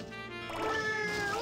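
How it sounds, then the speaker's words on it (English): Several cats meow in quick overlapping calls in the video game Katamari Damacy Reroll, bright and layered over game music. "Whoa, I picked up a ton of cats at once."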